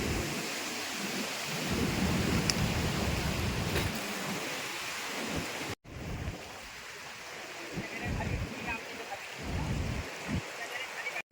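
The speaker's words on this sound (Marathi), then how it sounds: "पाऊस चालू झालाय कारण बघा या साईडला पाऊस पडतोय" Steady monsoon rain pours down on a forested hillside with a heavy, rushing wash, broken briefly by a cut, with low rumbles suggesting distant thunder.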